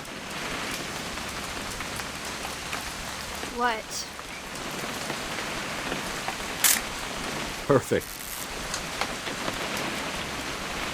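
Steady rain falling in the video game What Remains of Edith Finch, a constant hiss of drops on surfaces, with brief voices and a camera shutter click partway through.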